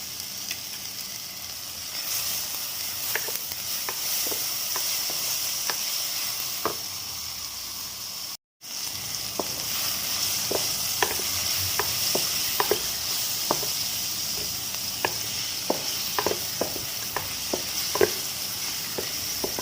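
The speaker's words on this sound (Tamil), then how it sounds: "இப்போ நான் செராய் போடுறேன். இஞ்சி பூண்டு விழுதுகள்" Steady sizzling of lemongrass and ginger-garlic paste in a hot pan with scattered crackles and pops, stirred throughout, with a brief gap partway through.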